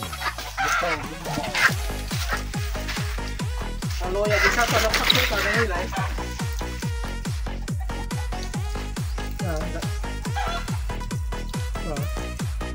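Chickens cluck and squawk nearby over a steady rhythmic thumping beat, with bursts of louder fowl calls early on.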